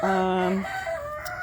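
A rooster gives a brief crowing call up close, followed by softer clucking from chickens.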